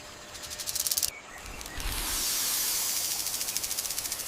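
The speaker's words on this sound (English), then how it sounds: "This is a snake." A snake hisses in a sharp, airy burst, then lets out a longer, swelling hiss that breaks into rapid, rhythmic pulses. The sound is moderately loud with no voices.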